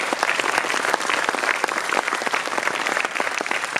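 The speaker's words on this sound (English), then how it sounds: "we should give a big round of applause" Round of applause from an audience of parents and guests at a chartered accountancy event in India, dense steady clapping throughout, moderately loud and close.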